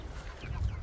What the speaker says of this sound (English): Get these chickens back inside.